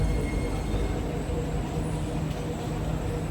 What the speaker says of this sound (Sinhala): හරි ඔන්න එහෙනම් මෙට්‍රෝ එක ආවා